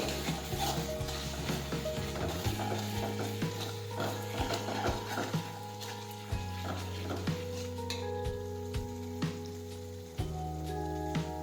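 A spoon scrapes and clanks steadily through a pot of urad dal curry as crushed garlic chutney is mixed in, repeated clinking strokes over a low sizzle, close and continuous without talk.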